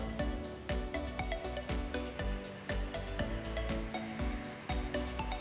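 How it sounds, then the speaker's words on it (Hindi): A sizzling brownie hisses and crackles steadily up close, with occasional scraping or stirring sounds over a continuous fizz. "तो जैसे आप इसका सिजलिंग इफेक्ट सुन सकते हो"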